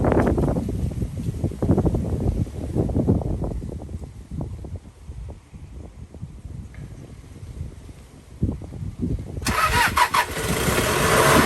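A Toyota Dyna truck engine, just fitted with a repaired starter solenoid, cranks with a rapid, rough chatter for several seconds, then fires and runs with a louder, steady roar close by.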